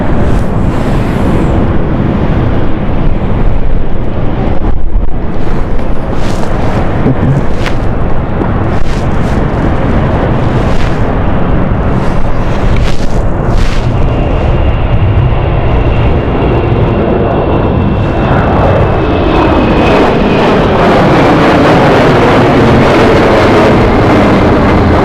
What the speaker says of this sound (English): taking off at the moment is the Glasgow flight